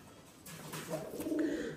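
A stray pigeon cooing softly nearby, a faint low murmuring call over a quiet background hiss.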